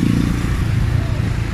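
Motorized tricycle engine in Cebu, a steady low rumble with a faint rattle, idling close by without pause.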